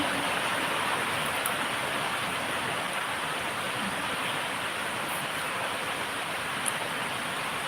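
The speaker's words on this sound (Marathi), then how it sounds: "पाऊस बघा खूप चालू आहे बघा पाऊस चालू आहे" Steady, dense hiss of heavy rain pouring down without a break, loud and continuous. No voices.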